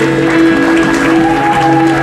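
A church congregation at a Sunday service applauds loudly and continuously, the crowd noise steady throughout and blended with sustained musical tones.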